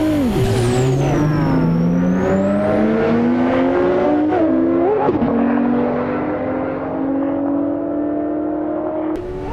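A drag car engine in the racing game Assetto Corsa roars and revs hard, pitch climbing through several gear shifts with a high whine, loud and continuous throughout.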